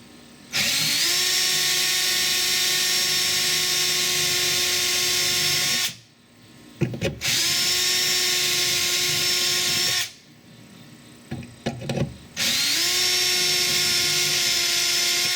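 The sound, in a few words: power drill drilling out rivets on Volkswagen Jetta door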